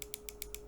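DPI button on a Genesis Zircon 550 wireless mouse, heard as a close, quiet series of six sharp mechanical clicks at a fairly even pace over a low steady hum.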